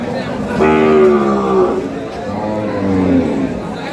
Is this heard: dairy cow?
yes